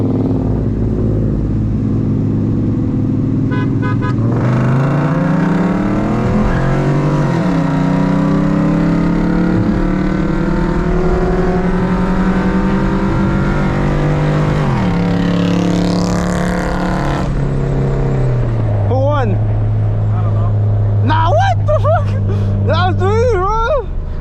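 A Lexus LS400 and a VW GTI race side by side with traction control off, engines roaring loudly and climbing in pitch through several gear changes before easing off near the end, with voices and cabin noise mixed in.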